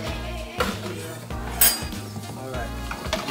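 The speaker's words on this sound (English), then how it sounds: "All right, you hear it sizzling?" Chicken with rosemary, lime and garlic cooks alongside green beans in a pan, a steady sizzle punctuated by clanks and scrapes of a utensil against the pan.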